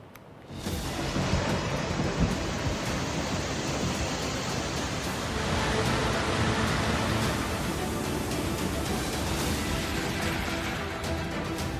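Heavy monsoon rain pours down in Uttarakhand, a loud, dense, continuous roar of water that holds steady for over ten seconds with no voices.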